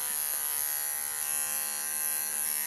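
Electric dog clippers shave down a matted coat with a steady, close, high-pitched buzzing drone that holds constant throughout.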